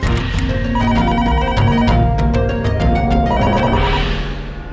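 A telephone rings loudly in a repeating electronic trill, several bursts in quick succession, close and clear with no talking.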